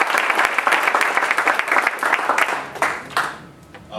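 Audience at an international conference panel on youth-led participatory action research applauding, a dense burst of clapping from a crowd that swells, then tapers off near the end.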